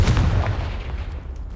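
A fiery Confringo spell blast in Hogwarts Legacy, a loud close boom with a rumbling, crackling tail fading out over about a second and a half.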